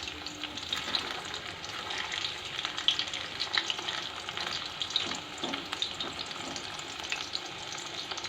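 Chili chicken pakoras, just flipped, fry in hot oil on low flame with a continuous close bubbling sizzle and light crackle, no one talking.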